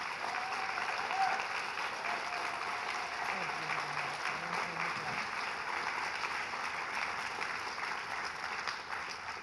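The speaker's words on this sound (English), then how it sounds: "We can applaud you first." Steady audience applause fills a hall after an artist conversation, even and unbroken for the whole stretch, with faint voices beneath it.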